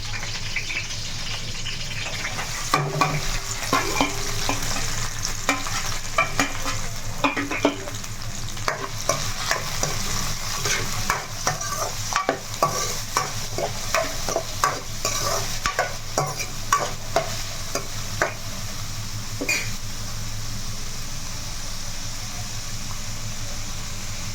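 Onions stirred and frying in a pan with green chilies while a chicken curry is cooked: a steady sizzle close by, broken up by repeated clinks and scrapes of a spoon stirring.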